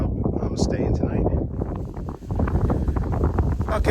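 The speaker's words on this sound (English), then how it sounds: "Sorry about the noise. It's very, very windy, which works to my advantage." Strong wind buffets a camera microphone on the open Kansas plains at a bicycle touring campsite, making a loud, continuous, rough rumbling roar that dips briefly midway before gusting back.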